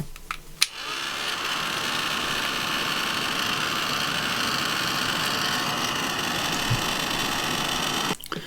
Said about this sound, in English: I'm going to dry that off now with my heat tool.